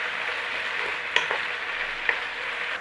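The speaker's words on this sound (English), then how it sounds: "in with the onions, in with the garlic. Give that a little stir through, start cooking that off" Chicken with onions and garlic frying in a pan: a steady, close sizzle carries on throughout, broken by a couple of sharp clicks from a stirring utensil, with no talking.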